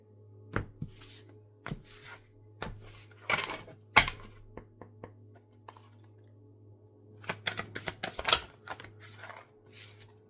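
Brisk ruffling tarot card shuffles come in bursts of sharp clicking flutters, separated by quiet pauses, close and fairly crisp with no talking.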